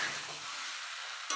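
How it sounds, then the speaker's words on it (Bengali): Potatoes for aloo dum sautéing in a pan, giving a steady, close hiss of frying that runs unbroken, with a brief scrape of stirring near the end. "আলুটা সুন্দর কষা হচ্ছে।"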